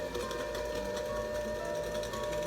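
An electric mixer runs steadily as dry ingredients are worked into thickening chocolate chip cookie dough, giving a continuous close motor whir with a rhythmic mechanical buzz and no pauses.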